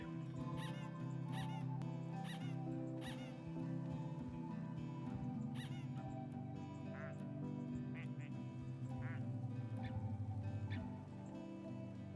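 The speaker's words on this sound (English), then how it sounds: "Mal's a squeaky duck." Squeaky rubber duck in the Placid Plastic Duck Simulator video game, with repeated short quack-like squeaks over steady game music for the whole stretch and no clear talking.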